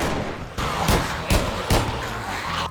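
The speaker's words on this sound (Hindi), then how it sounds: "लेकिन बहुत देर तक इसको फायरिंग करने के बाद ये मर जाता है फाइनली" Gunfire at a big zombie in the Minecraft video game: about four sharp, loud shots spaced roughly half a second apart over a steady background noise, with no talking.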